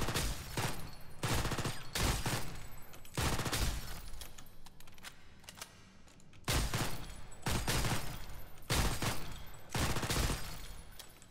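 Kriss Vector submachine gun fired at a video game shooting range, repeated loud rapid bursts of close gunfire separated by brief pauses, no talk.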